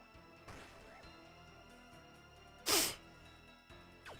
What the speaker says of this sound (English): Just sneeze again.